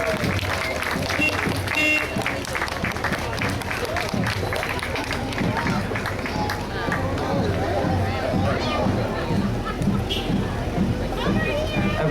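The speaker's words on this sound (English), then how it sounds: "please give another applause, one of our Grand Marshals" Steady applause from an audience at a cartoon festival, loud and continuous for several seconds, with crowd chatter and a few voices mixed in.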